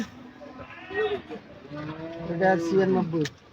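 Cattle at a livestock market moo in a few drawn-out calls, close and fairly loud, with people talking over and around them; the animal is a Haryana cross bull.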